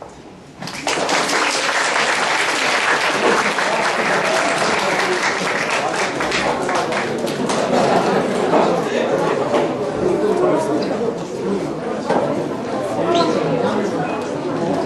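A concert hall audience gives sustained, loud applause to a student after an English speech, dense clapping mixed with cheering and chatter that stays steady for the whole span.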